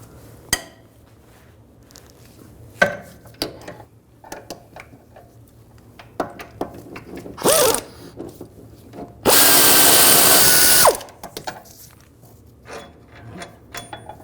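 A power tool with an 18mm socket loosens a rear shock absorber bolt on a 2009-2010 BMW 535i xDrive: a short rattling burst, then a louder sustained whirring blast about a second and a half long, with scattered metal clanks.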